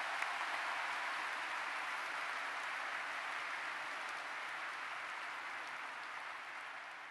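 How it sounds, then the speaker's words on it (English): A large convocation audience of new university students applauds the university regents, a broad, dense wash of clapping that fills the hall evenly and tapers slightly toward the end. "Please give them a round of applause and thank them for their service."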